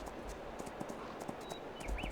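Horse hooves clip-clopping while riding in the Farming Simulator 22 video game, a quiet steady run of soft hoofbeats with faint bird chirps near the end.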